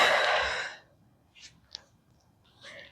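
One audible exhale during a Pilates ab and glute exercise, a breathy rush at the start that fades, followed by faint clicks and small breaths.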